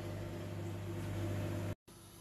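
A microwave oven heats frozen peas in a splash of water, its steady close mechanical hum with a low drone running evenly before a brief break and then resuming.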